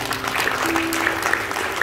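A church congregation applauds, a moderate wash of clapping that holds steady for a couple of seconds, with a voice faintly audible underneath.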